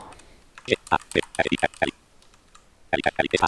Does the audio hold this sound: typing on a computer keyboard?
yes